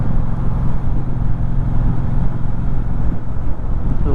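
A Triumph Speedmaster 1200 motorcycle being ridden, its engine rumbling steadily and loudly under rushing wind noise, continuous from start to end with no talk.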